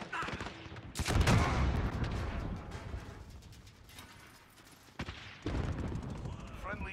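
Mounted gun firing in Call of Duty: Modern Warfare, dense rapid bursts of close automatic fire with mechanical clatter, easing midway then resuming, with voices talking underneath.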